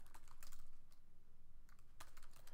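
Steady typing on a computer keyboard, rapid clicking keystrokes close by with a few brief pauses, while entering text into an APA title page, with no voices.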